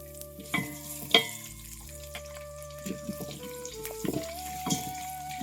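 Onions and cumin frying in oil as a tempering for South Indian sambar, a soft sizzle broken by a few sharp clinks and scrapes of stirring, quiet and close.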